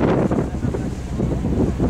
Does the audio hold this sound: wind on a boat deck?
yes